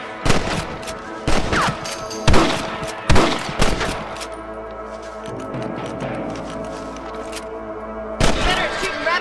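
Rifle shots in Red Dead Redemption 2 aimed at thieving rabbits: four loud, close reports in quick succession, then a quieter stretch of ambient noise before one more shot near the end.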